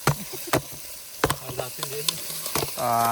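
Mud crabs frying in butter in a pan at a fishing campsite, with close sizzling broken by sharp clatters of stirring, and a steady hiss swelling at the end.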